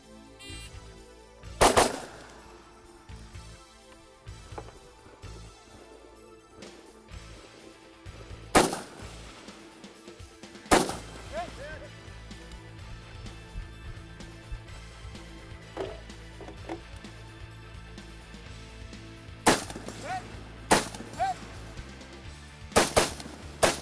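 Gunfire from a grassroots 3-gun shooting competition stage: loud, sharp shots with bursts and pauses over a steady outdoor background, some close and some more distant, with no talking.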